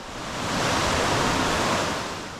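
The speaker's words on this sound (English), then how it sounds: "The bridge affords great views of the weir off to the left" Water pours over the weir on the River Wharfe at Bolton Abbey in a dense, steady roar, with no talk over it.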